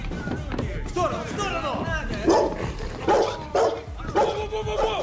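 Dog barking and yelping during a police raid on a drug den, with agitated, repeated barks throughout under loud shouting voices and commotion.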